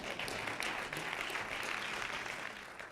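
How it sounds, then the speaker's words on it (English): Audience applause at a county government State of the County address, a steady dense wash of many hands clapping together, fairly loud and continuous throughout with no talk over it. "you can clap for LeBron, that's good"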